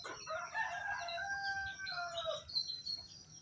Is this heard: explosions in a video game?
no